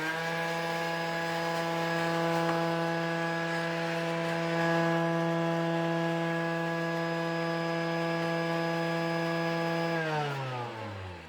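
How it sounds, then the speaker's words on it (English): Sugar whirs in a kitchen grinder for about ten seconds, a loud steady motor hum with a bright tonal whine that winds down at the end. "now that we've ground sugar for 10 seconds"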